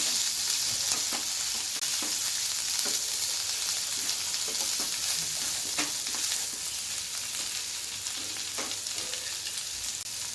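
Boiled potato stirred into spices in a hot pan for vada pav, a soft steady sizzle with scattered scraping and stirring clicks, close and fairly quiet, with no talking.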